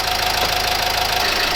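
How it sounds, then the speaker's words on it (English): A Renault Megane Mk3 with a 1.5 dCi diesel engine runs at idle, a steady, loud, close clatter with a rapid even knock throughout and no voices. "It's a diesel engine, as you can probably tell by the noise of it."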